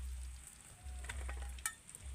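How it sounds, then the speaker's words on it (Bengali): Two dried chillies sizzle and crackle softly in hot oil for an egg curry, with a few sharper pops over a low background hum. "লঙ্কাটাকে হালকা করে একটু ভেজে নেব"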